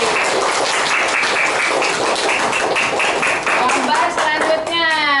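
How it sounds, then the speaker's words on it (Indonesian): Schoolchildren in a classroom clap together for a classmate, quick rhythmic hand claps close by and steady, with children's voices chattering over them and a bright ringing tone near the end. "Tepuk tangan untuk Sofi."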